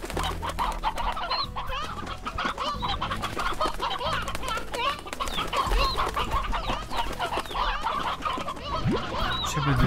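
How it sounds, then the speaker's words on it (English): Clucking of chicken-like chickadoos (hens) in the video game Slime Rancher, a continuous busy chorus of overlapping clucks and chirps from many birds over game ambience, close and steady throughout. "Where's the stone hen chickadoos?"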